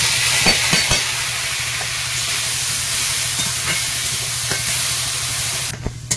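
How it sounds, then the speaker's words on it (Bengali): Dal frying in hot oil with whole cumin seeds in a kadai, a steady close sizzle with repeated scraping stirs of a spoon against the pan, ending in a few sharper clinks. "কড়াইতে তেল দিয়ে দিলাম, একবারে আর কি রান্নাটা বসাবো। ডালটা তেলে একটু গোটা জিরে দেবো, আর ডালটা এবার দিয়ে দেবো।"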